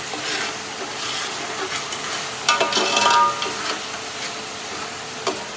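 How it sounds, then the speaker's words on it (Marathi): Masala for paneer matar masala is fried in oil until the oil separates, giving a steady low sizzle with occasional stirring scrapes and a brief louder burst of spatula clatter partway through. "तेल सुटेपर्यंत मसाला भाजून घ्यायचा"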